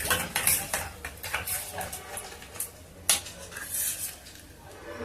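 Jaggery being stirred in a pot for instant junnu, a utensil scraping and clinking against the metal in steady, uneven strokes with a couple of sharper knocks, close and moderately loud with no voices.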